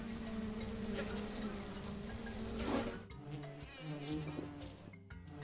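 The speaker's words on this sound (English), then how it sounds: "Wasp." A wasp buzzes with a close, steady droning hum that wavers in pitch, then thins into shorter, fainter bursts toward the end.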